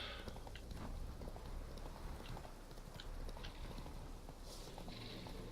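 Roach, a horse in the video game The Witcher 3, gallops with a steady run of hoof clip-clops over a dense, continuous backdrop of game ambience, without pause from start to finish.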